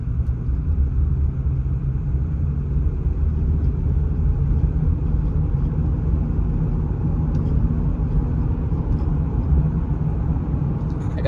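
Interior road noise of a Toyota Solara cruising on a busy main road, a loud steady low rumble of engine and tires that continues without a break.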